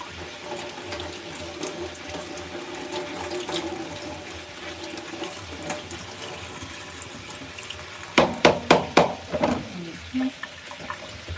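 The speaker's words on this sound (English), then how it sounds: "Rinse off the skin and strain it." Water runs steadily while food is rinsed and strained out of a pot, ending with a burst of close, clattering knocks and splashes near the end.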